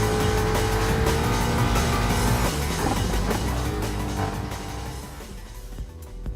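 Rallycross cars exceeding 500 horsepower roar past in the Gran Turismo Sport video game, including a four-wheel-drive Ford Focus, Subaru WRX, Lancer Evolution and Ford Mustang, their loud, droning engines holding strong before easing off toward the end.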